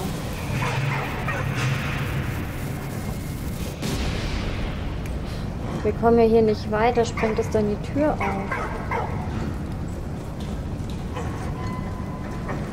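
In the Valiant Hearts: The Great War video game, a dog barks and yips in a short burst midway, over a rumbling battlefield background, while someone talks in German before and after.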